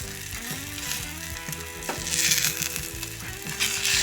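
Tomato egg bhurji cooks in a pan, a continuous sizzle and crackle that swells in the second half, heard close over quiet background music with no talking.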